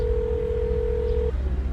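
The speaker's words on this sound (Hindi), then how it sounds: "मोहल्ले से निकलने के बाद विकी ने बिट्टू को फोन लगाया।" A single steady telephone dialing tone sounds for just over a second and cuts off abruptly, set over a low background hum as an effect in a Hindi crime-drama audiobook.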